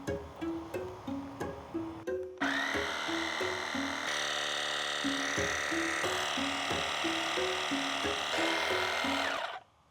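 A Lasfit Air Inflator runs close by with a steady, loud electric whine that holds for most of the stretch. Short rhythmic pulses come just before it, and the run cuts off sharply near the end.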